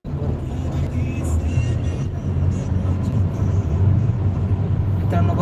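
A car cruises on the Samruddhi expressway, giving a steady, close interior rumble of engine and road noise throughout with no breaks.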